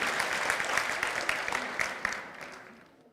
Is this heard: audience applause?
yes